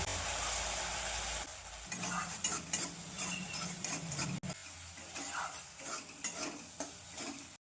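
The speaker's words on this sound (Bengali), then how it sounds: "মশলাটা আমি কষিয়ে নেব ভালো করে" Spice masala with chili powder fried in oil and stirred in a pan, a soft steady sizzle broken by scraping spoon strokes and occasional clinks, fairly quiet throughout.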